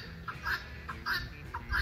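Female guinea fowl give a repeated two-part call, heard as several bursts in a steady rhythm at moderate distance over faint background noise.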